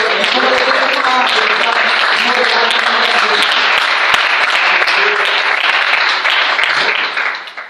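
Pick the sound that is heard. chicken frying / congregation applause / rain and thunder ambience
congregation applause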